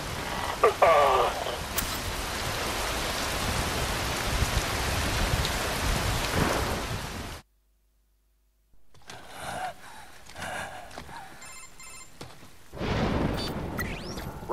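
Heavy rain pours in Metal Gear Rising: Revengeance as a loud, dense, steady wash that cuts out abruptly, then returns more quietly with music and voices mixed in.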